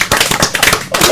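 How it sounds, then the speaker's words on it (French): A burst of audience applause on a French talk show, dense close hand claps lasting about a second with no pause. "On applaudit Joanne."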